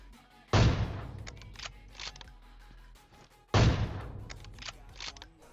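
Gunfire in PUBG, with two sharp loud shots about three seconds apart, each followed by a short tail of fainter clicks and cracks.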